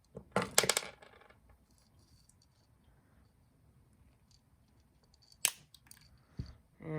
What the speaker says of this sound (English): I take my chain and take 4 inches and cut the 4 inch